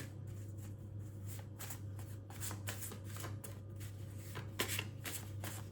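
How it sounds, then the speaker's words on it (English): Tarot cards being shuffled by hand before one is pulled, a close, steady run of soft riffling and slapping bursts under a low background hum, with no speech. "I'm going to pull one of these cards"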